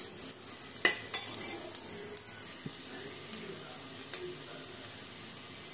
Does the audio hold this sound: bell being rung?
no